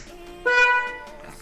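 A single short, bright beep of a Honda CBR150 motorcycle horn sounds close by against quiet surroundings.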